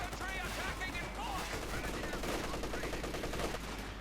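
Rapid .50 caliber machine gun fire from an M20 in Company of Heroes 2, a dense, continuous clatter of bursts layered with other battlefield gunfire and game effects throughout.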